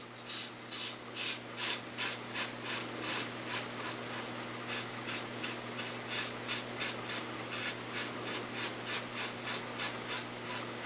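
A Muhle Rocca safety razor scrapes through stubble and shaving cream in close, rhythmic strokes, a crisp rasping swipe repeating steadily over and over with no talking.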